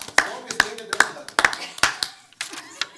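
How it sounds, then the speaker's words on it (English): Several people at a city council meeting give scattered, uneven handclaps, about a dozen sharp, close claps spread over a few seconds and trailing off, with no roaring crowd behind them. "give them a round of applause"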